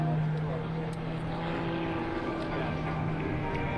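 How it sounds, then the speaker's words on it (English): A propeller airplane making a low-altitude, low-speed photo pass at an air show, a sustained droning engine hum with steady tones, loud and continuous throughout. "This is Sean's low altitude, low speed photo pass."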